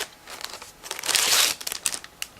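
Plastic bags holding 1/24 scale model kit sprues crinkle and rustle up close as they are handled and opened, building to a dense burst of crackling in the middle before settling into scattered crinkles.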